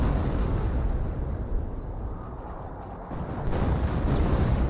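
An artillery barrage pounding a choke point in Company of Heroes, a dense, rumbling roll of explosions and booms that dips briefly in the middle and then builds again.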